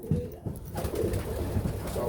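Racing pigeons cooing inside a loft, low throaty coos repeating close by in a short, continuous burst.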